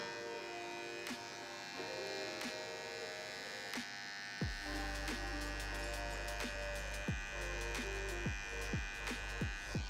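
Electric hair clippers doing an edge up on a fade buzz with a steady close hum, with brief clicks and taps scattered across the strokes and a denser rhythm of short contacts in the second half.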